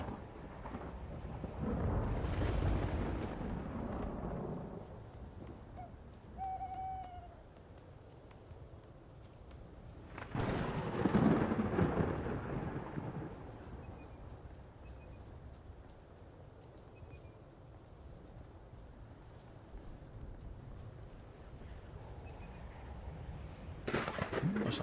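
Rolling thunder from a storm in the game Skyrim, two long broad rumbles swelling and fading over a low steady bed of rain-like noise, with a third burst starting at the end.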